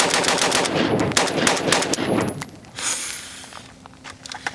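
An AK 102 rifle chambered in 5.56/.223 fires a rapid string of sharp, loud outdoor shots that cut off after about two seconds, followed by a few scattered clinks and faint rustling.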